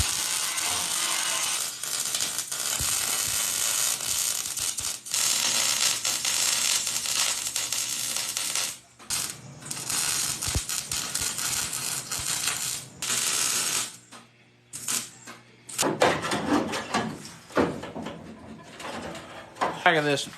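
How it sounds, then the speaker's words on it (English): A chain come-along ratchets in bursts of clicking while pulling the fender of an old Lincoln car, with gaps and shifting mechanical rattles; pigeons coo nearby and a voice speaks at times. "Gotta love a little chain come along"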